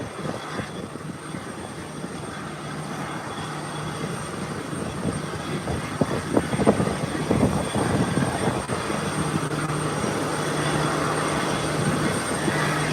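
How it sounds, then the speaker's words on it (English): An Airbus A319 airliner at Howard Hamilton International Airport, its jet engine roar building gradually from moderate to loud and steady, heard from a distance without talk. "Hey, Copperhead, that's an Airbus 319."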